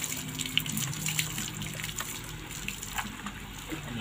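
Water runs steadily from a tap while a small dog's face is washed, a soft, continuous low splashing flow at close range.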